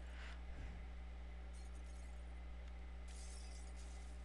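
Glass shattering in the Happy Wheels video game, a brief crash and tinkle of breaking glass early on, followed by faint clinking over a steady low hum.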